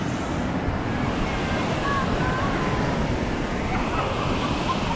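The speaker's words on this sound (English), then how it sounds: "Very rough surf." Rough ocean surf at Kata beach, Phuket, on a red-flag day, roaring as a steady broadband wash of breaking waves with wind buffeting the microphone, continuous and loud throughout with no voices.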